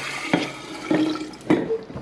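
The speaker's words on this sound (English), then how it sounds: "and now Bug, please pour in 2 cups of water into our jar." Water poured from a container into a jar, with three brief splashing bursts over a steady watery wash, close and moderately loud, no talking.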